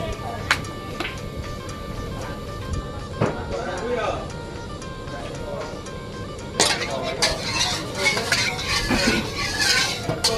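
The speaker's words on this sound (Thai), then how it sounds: "กระทะเดือดข้างหลังครับพี่น้อง" A pan of oil boils and sizzles on a stove, with constant frying hiss, clinks and scrapes of utensils, and a voice talking over the cooking noise.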